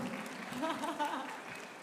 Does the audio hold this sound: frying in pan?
no